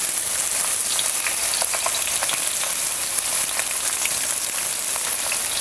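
Finely chopped onion drops into hot oil with cumin and sends up a loud, dense, steady sizzle with small crackling pops throughout, heard close up with no voices.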